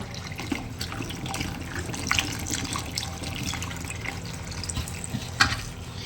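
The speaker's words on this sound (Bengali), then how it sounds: "চলো ভালো করে ধুয়ে নিই এটাকে ধুয়ে আবার কাটতে হবে" Tap water runs into a small basin while something is washed under it, a close, steady splashing stream with occasional light knocks and clinks against the basin.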